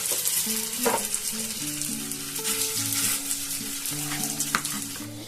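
Raw-potato-stuffed fritters (phuluri or bora) deep-frying in hot oil: a steady, close crackling sizzle that runs throughout, with a few sharper spits and faint tonal background music underneath.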